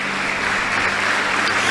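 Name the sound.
church congregation applauding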